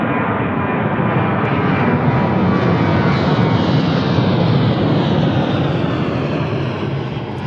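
A jet airplane at Ted Stevens Anchorage International Airport in Alaska roars loudly and steadily, a continuous close engine rumble with no voices over it.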